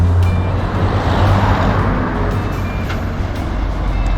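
Vehicle passing on a road near the Dilucu border area while someone waits to hitchhike, a loud, close, steady rumble of engine and tyre noise with no talk.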